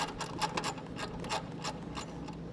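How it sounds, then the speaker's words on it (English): A wrench turns a 10mm nut off a terminal stud while a Roadmaster Hy-Power diode wiring kit is fitted, giving a series of close, quiet ratcheting clicks and small metallic taps in an even rhythm. "get the nut off there"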